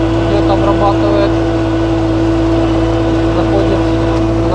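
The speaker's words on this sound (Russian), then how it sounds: "Видим там второй трактор, который идет, обрабатывает" A tractor drives through a field while spraying crops, its engine a loud, close, steady droning hum that holds without change throughout.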